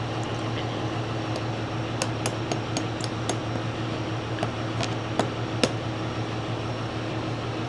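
About a dozen light, sharp metallic hammer taps on a baler part, while changing baler belts, ring out at irregular intervals over a constant background hum of a fan or machinery.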